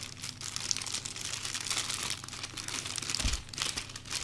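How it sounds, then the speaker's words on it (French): Plastic packaging around a microphone stand being unwrapped close up, with continuous crinkling and rustling over several seconds and a soft thump near the end. "ceci, je crois que c'est un support pour le micro que nous allons déballer tout de suite."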